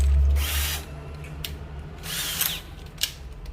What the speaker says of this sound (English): Grab your electric screwdriver and